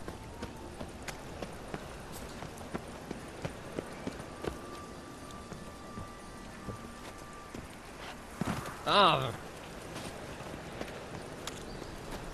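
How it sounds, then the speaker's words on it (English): Horse hooves clip-clopping in a steady walking rhythm beneath faint rain ambience in the Witcher 3 video game, fairly quiet, with a brief louder burst near the end. "It just rains and rains."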